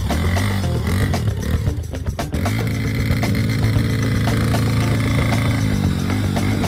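A four-wheeled ATV quad bike engine runs close by with a loud, steady, throbbing drone that stays constant throughout, with no voices over it.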